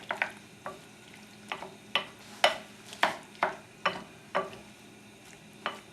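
Vegetable omelet ingredients with a little potato are mixed in a bowl, giving about a dozen sharp, evenly paced clinks and scrapes of a utensil, close and fairly quiet.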